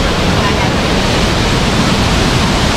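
Hulugan Falls in Luisiana, Laguna roars as a steady, loud wash of falling water, dense and unbroken throughout.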